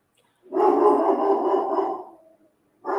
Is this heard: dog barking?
yes